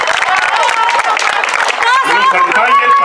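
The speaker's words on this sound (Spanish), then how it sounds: "Un fuerte aplauso para estos dos grandes equipos." A crowd applauds two teams at an opening ceremony, a dense steady wash of clapping and cheering with a few voices rising over it near the end.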